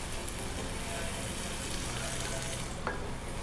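Tamarind water going into a pan of frying tomatoes and taro root, a steady low sizzle and bubbling throughout with a brief splash near the end.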